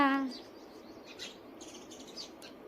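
Faint, scattered chirps of sparrows, a few short tweets spread over a couple of seconds, after a brief voice sound at the start.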